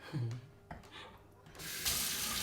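Tap water runs from a faucet during a water pressure check in a home in Mongolia, starting with brief splashes and clunks, then swelling into a steady, loud rushing gush near the end.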